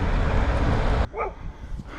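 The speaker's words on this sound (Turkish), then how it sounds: "Köpekler başladı bile hemen" Broad rushing noise cuts out, then a dog gives a couple of short yipping barks at a moderate distance, on a village road during a bicycle ride.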